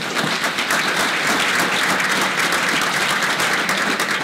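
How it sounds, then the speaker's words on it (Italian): Dense, sustained applause from a conference audience, steady and loud throughout without a break. "con un applauso"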